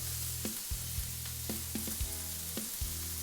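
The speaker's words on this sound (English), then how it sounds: "while she's sauteing the scallops" Scallops sauté in a hot pan with a constant close sizzle, punctuated by several short scrapes and clicks of a utensil moving them around.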